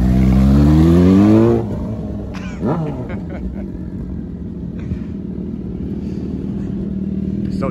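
A sport motorcycle revs hard through its exhaust pipe, the engine pitch climbing for over a second, then drops to a low idle rumble with faint background noise.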